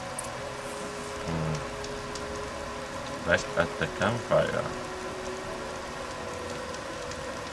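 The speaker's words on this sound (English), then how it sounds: "It's raining." Soft, constant rain patter from Horizon Zero Dawn fills the background during a campfire rest, with someone talking briefly over it in the middle.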